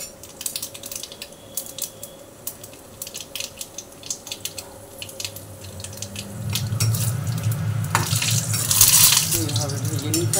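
Dried red chillies and nigella seeds fry in hot mustard oil. The clip opens with faint crackles and clicks, then a loud, steady sizzle swells up in the second half, with brief spattering bursts.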